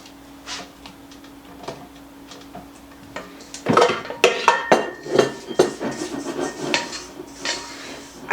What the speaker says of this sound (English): now I'm going to scrape my bowl